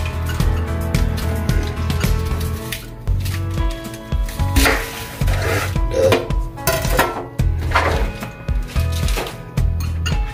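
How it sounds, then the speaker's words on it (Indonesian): A knife chopping washed bok choy on a cutting board in a home kitchen, with close, loud, irregular taps and knocks spread across the whole stretch, mixed with clinks of utensils and cookware. "Oke, ini potong menjadi dua"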